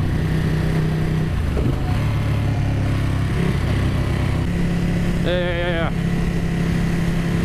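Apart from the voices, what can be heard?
Ducati 959 Panigale motorcycle engine while riding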